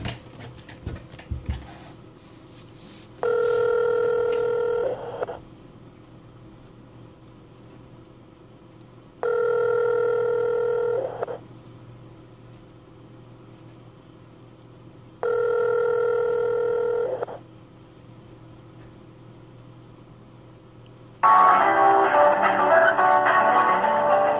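A phone line rings in three evenly spaced ringback tones with pauses between, then loud on-hold music cuts in.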